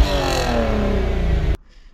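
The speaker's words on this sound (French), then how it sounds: "à l'arrière, on profite de la mélodie du 6 cylindres" Six-cylinder engine of a Golf 5 R32 revs hard from inside the cabin, a loud, rising mechanical note that cuts off abruptly near the end.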